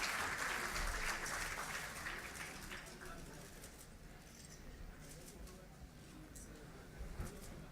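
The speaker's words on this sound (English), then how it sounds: "Let's give her a warm round of applause as she comes to the stage." A crowd applauds a chief guest arriving on stage at a World Hepatitis Day 2016 event, a steady wash of clapping that swells at first and then settles into a softer, sustained patter, with voices murmuring faintly beneath.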